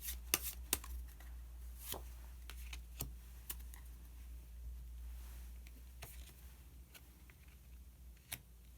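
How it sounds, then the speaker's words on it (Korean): Osho Zen tarot cards are shuffled and one is drawn, a quiet run of sharp clicks, flicks and soft card slaps spread unevenly over a low background hum, with no speech. "마지막으로 오쇼젠 카드 한 장 더 뽑아보도록 하겠습니다"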